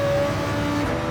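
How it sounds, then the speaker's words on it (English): A car engine in Gran Turismo 7 revs hard as it shifts up through the gears. The steady, loud, close drone has a rising whine and a slight pitch drop at each gearchange, with no talking. "Shifting up through the gears."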